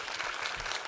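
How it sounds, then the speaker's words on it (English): Seminar audience applauding, a steady wash of many hands clapping at moderate level through the whole short moment. "How about a round of applause for Eric for bringing this in?"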